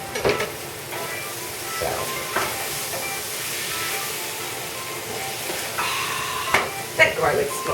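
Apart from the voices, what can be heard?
minced garlic sizzling in a frying pan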